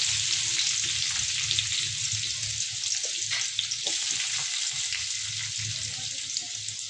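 Peanuts, cumin and mustard seeds frying in hot oil for semiya upma, a loud continuous sizzle with small pops and stirring clinks, no talking.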